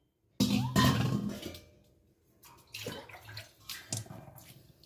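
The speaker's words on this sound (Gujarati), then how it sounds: "આવી રીતે પાણી નાખશું." Water pours into a jar holding salted, turmeric-coated amla. One loud splashing gush comes first, followed by a few shorter, softer pours and gurgles up close.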